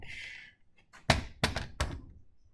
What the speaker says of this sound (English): just going to place the weapon down on the bench